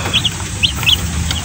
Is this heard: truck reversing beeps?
no